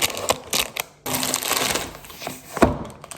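A survival ration package being torn and opened, crinkly plastic and packaging rustling in sharp bursts with a brief pause, then continuous crackling handling and a final loud crunch.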